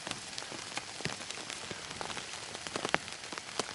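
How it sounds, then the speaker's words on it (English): Steady rain patters on a surface in a back garden with a tarp and bivvy shelter, a dense continuous hiss broken by sharper individual drop hits throughout, close and fairly even in level with no talk. "Get out of the rain."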